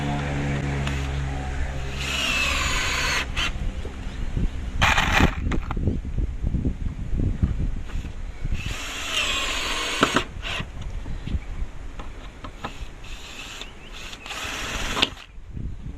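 A power driver runs screws into a wooden garden bed built with second-hand screws, giving several bursts of whirring motor separated by pauses and handling noise, up close.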